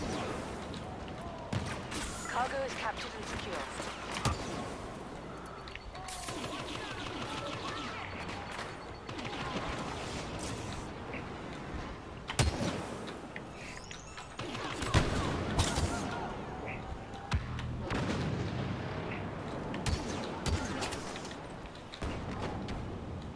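Dense, chaotic gunfire and blasts from the Star Wars Battlefront Cargo map, with rapid bursts, sharp cracks and booming explosions layered continuously throughout, loud and busy with no pause.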